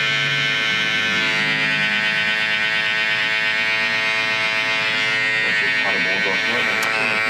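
Hair clippers buzz steadily and close up against the neck during a bald skin fade, a constant electric drone that roughens slightly as the blades pass over the skin.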